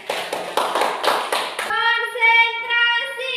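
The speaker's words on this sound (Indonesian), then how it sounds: "Kita beri tepuk tangan dulu." A classroom audience claps for a group that has just presented, giving a short burst of about six brisk, sharp claps. The clapping stops abruptly and is followed by a sustained, steady tonal sound, like a held voice.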